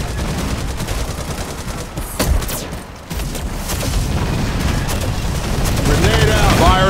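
Gunfire and explosions fill a round of the mobile shooter Shadowgun War Games: dense, continuous bursts of shots with a few heavier booms, loud throughout, and game voices calling out over the barrage.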